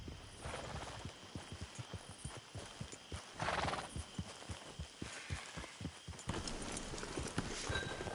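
Horse hooves clip-clopping at a steady walking rhythm in the Red Dead Redemption 2 video game, fairly close and clear, with snorting and a whinny partway through, and no talk.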